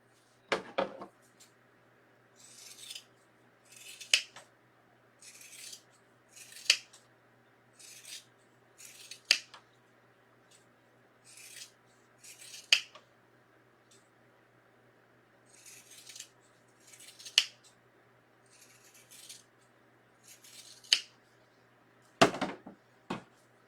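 Repeated crisp snips of scissors cutting through folded paper, roughly a dozen cuts at an uneven pace, close up with quiet pauses between.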